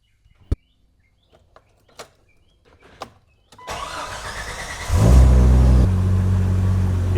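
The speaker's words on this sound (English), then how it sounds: "gonna get the engine up to temperature" A Jeep Wrangler TJ Sport with a 4.0L engine cranks after a few clicks and knocks, catches, revs up loudly, then settles into a steady, close warm-up idle.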